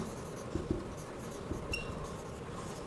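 Pen strokes on a board make soft, scratchy taps and short scrapes over a few seconds, faint against a constant room hum.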